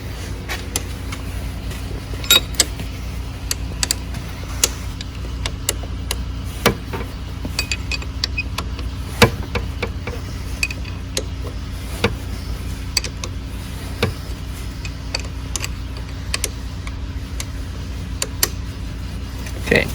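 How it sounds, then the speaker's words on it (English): Tightening handlebar bolts on a Venom motorcycle gives sharp, irregular metallic ticks and clicks. They repeat close by over a steady low hum, and nobody speaks. "And then you go ahead and tighten everything up."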